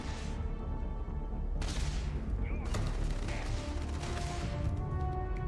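Gunfire in the video game Starfield crackles in fast bursts and sharp reports beneath a dense, loud game soundscape, with one brighter blast midway.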